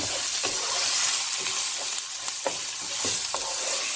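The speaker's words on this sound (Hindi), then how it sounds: "अब इसमें अनियन, ग्रीन बेल पेपर और गार्लिक ये डाल देंगे। 2 मिनट इसको मिक्स करेंगे।" Onion, green bell pepper and garlic stirred into rice in a pan over a medium flame for Mexican rice, with a constant bright sizzle and a few spaced scraping strokes of the spoon, heard up close without speech.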